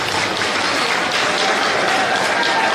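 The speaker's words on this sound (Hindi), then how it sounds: "महिलाओं को ताली जोरदार बजानी चाहिए" Loud, sustained applause from an audience of women at a public event, a dense wash of clapping that fills the whole stretch with no break.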